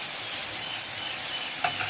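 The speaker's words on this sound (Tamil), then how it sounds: "5 நிமிஷம் நல்லா வதக்கிக்கலாம்." Green chillies, brinjal and turkey berries sauté in a pan with a constant close sizzle and faint stirring scrapes, unbroken throughout.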